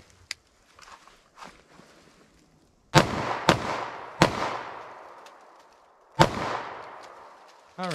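Sig Sauer P365 9mm pistol firing V-Crown ammunition: four loud, sharp reports with echoing tails, two fired close together, a third shortly after and a fourth following a pause, with faint handling noise before the first.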